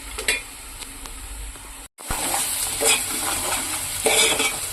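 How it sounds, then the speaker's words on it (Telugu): Chopped onions sizzle and fry in hot oil in a cooking pot, with a few stirring scrapes; a brief gap is followed by louder, steady sizzling close by. "వేసేసుకున్నాను ఉల్లిపాయలు."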